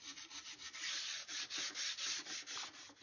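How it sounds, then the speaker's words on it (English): Sandpaper rolled on a dowel rubs along a wooden rifle stock from a swivel breech rifle kit, working out toward the nose cap in quick, steady back-and-forth strokes, close and fairly loud. "I want to make sure that you sand this right out to the nose cap."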